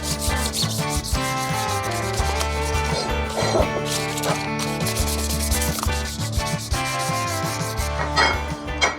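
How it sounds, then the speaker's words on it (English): An old aluminum Harley top end part being hand-sanded with fine 2000-grit paper, giving a close, continuous rubbing rasp in quick back-and-forth strokes, loud and steady, with no voices. "We're gonna hit with our last grit, which is 2000."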